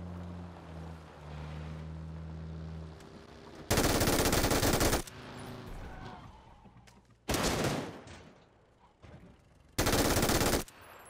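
Rapid automatic gunfire from a gun in PUBG, three loud sustained bursts of fast fire separated by quieter stretches with engine and water sounds, close and dominant.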